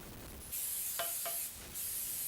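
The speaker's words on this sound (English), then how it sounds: "We're just going to go ahead and hit this muffin tin with a little bit of a spray canola oil." Two long hissing bursts of high-heat canola oil cooking spray coat a muffin tin, close and fairly loud against a quiet kitchen, with a brief gap between them.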